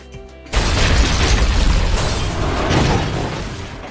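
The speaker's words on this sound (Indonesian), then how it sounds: "Namun secara tiba-tiba, kantor tentara Amerika di belakangnya harus meledak." An American army office blows up in a war film scene, a sudden loud blast after a short quiet lead-in, followed by a heavy rumbling roar with debris-like crackle that slowly tapers.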